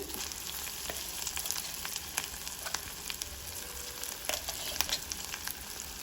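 Ground carrot chutney sizzling steadily in hot seasoning oil with mustard seeds, cumin, fenugreek, curry leaves and ginger, a continuous close crackle with scattered small pops and no talking.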